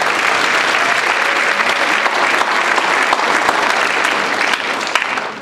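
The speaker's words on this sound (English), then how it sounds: "so give them a round of applause" An audience applauds steadily and loudly for several seconds at a Fenton High School choir concert, a dense, even wash of clapping with a few scattered cheers.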